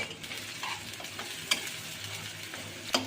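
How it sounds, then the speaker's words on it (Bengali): Chopped onions with green chillies, a cardamom pod and a cinnamon stick sizzle steadily in a pan while being stirred, with two sharp scrapes of the spoon standing out over the constant frying hiss. "এখন আমি নেড়ে চেড়ে দিচ্ছি"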